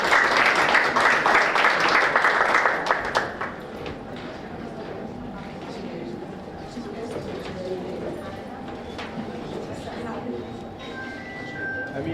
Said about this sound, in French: Alors, Hanan Ben Abdelali, sous vos applaudissements, s'il vous plaît.